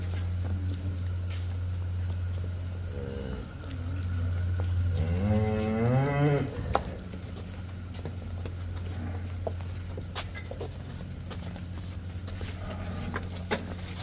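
Cattle at a Punjabi farm with Jersey cows and buffalo, one drawn-out lowing moo rising over a steady low farmyard hum, fairly near, with no talking.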